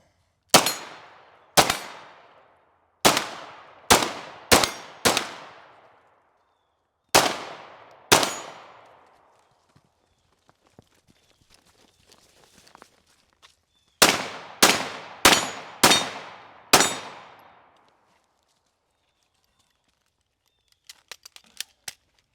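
A Flux Raider blaster fires about a dozen sharp, loud cracks, first in a quick irregular string, then another burst after a short quiet gap, with faint clicks and handling noise between volleys.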